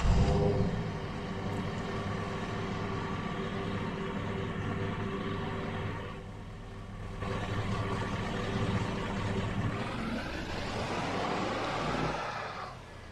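Truck engine in the Farming Simulator video game, a steady low rumbling drone that holds at even level while driving, with a brief dip midway and a rising rev toward the end before it eases off.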